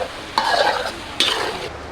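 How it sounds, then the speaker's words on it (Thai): Garlic frying in a pan for Thai prawns, with two bursts of sizzling and stirring, close and fairly loud, with no talk. "ตอนนี้ผมก็ทำการเจียวกระเทียมอยู่นะครับ"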